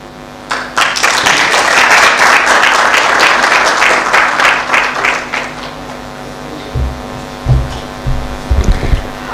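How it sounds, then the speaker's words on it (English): Loud audience applause at the launch of the annual National Shadow Budget publication, dense clapping filling the first six seconds before thinning out, with low rumbles and a few scattered claps near the end. "One more round of applause"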